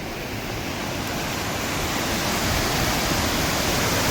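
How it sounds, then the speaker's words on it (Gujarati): A dense, steady roar of rushing water at Kundi waterfall, close and loud, pouring without pause. "જુઓ ખૂબ જ પાણી જઈ રહ્યું છે આ વિસ્તારની અંદર"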